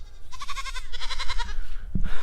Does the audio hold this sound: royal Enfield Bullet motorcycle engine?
no